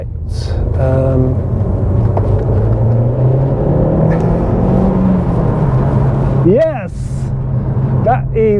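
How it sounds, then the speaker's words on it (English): A Mk1 Audi S3 turbo engine pulls hard in third gear from about 3000 RPM, a deep continuous rumble with rising whines as it revs, and brief voice-like sounds over it. "That's third gear, so 3000 RPM, and then it kicks hard."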